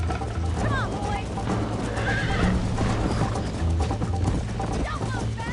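Horse in the Red Dead Redemption video game whinnying and galloping, with repeated neighs over steady hoofbeats, close and loud, while people talk over it.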